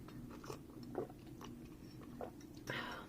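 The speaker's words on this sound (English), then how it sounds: "So sorry to all the people who don't want to hear me gulping down tea." Tea being gulped down, with a few close, wet swallowing sounds in separate bursts over a faint steady background.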